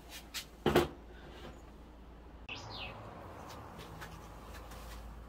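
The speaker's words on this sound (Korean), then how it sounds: "새소리." Birds chirp faintly in Grindelwald, Switzerland, with a short bird call near the middle over quiet outdoor ambience, following a brief knock or clatter at the start.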